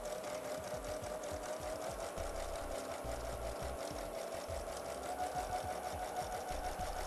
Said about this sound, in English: I've selected a zigzag stitch, but you can couch with any decorative stitch as long as your machine allows it.